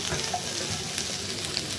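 Bitter gourd with jackfruit seeds fries in a pan, the steady close sizzle broken by scattered scraping stir strokes, with no talking.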